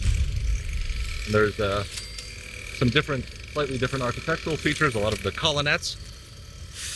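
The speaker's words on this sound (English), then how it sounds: "I apologize for the lawnmower noises." A lawnmower engine drones steadily and fairly loud in the background while someone speaks over it throughout.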